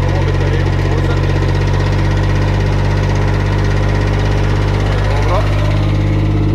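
An EBBS dumper's engine drones loud and close as the machine is driven over rough terrain, a steady, heavy mechanical rumble filling the whole stretch without a break.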